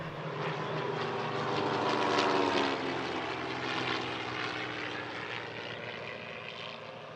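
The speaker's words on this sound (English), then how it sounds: "2 Pacific Aircraft Corporation CT-4 air trainers, and in the slot position, a Pilatus PC-9A" Two Pacific Aircraft Corporation CT-4 propeller trainers flying in formation with a Pilatus PC-9A at an air show, giving a steady droning engine roar that swells slightly and then fades gradually as they pass.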